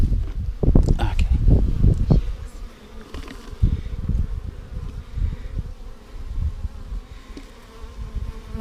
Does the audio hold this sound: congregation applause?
no